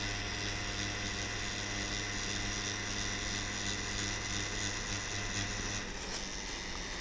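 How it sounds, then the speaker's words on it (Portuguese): A tattoo machine drives its needle into skin to lay in solid black ink with short circular strokes, giving a steady mechanical buzz that runs unbroken and fairly loud throughout, with a slight change in tone near the end. "Eu coloco a agulha dentro da pele e vou levando em movimentos curtos,"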